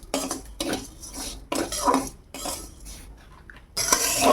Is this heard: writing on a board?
no